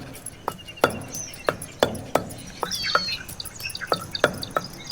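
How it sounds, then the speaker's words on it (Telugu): A stone mortar pounds green chili and a small piece of ginger, giving a steady series of sharp, close thuds at an even rhythm, with no talking. "ఒక పచ్చిమిర్చి అలాగే ఒక చిన్న అల్లం ముక్కను తీసుకొని రోటిలో కచ్చా పచ్చాగా దంచుకోవాలి"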